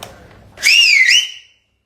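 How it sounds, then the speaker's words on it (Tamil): One loud, shrill celebratory whistle blown close by, rising and wavering for almost a second before cutting off, standing alone after faint background murmur. "அந்த மாதிரி விசில் அடிங்கன்னு கேட்கறாங்க"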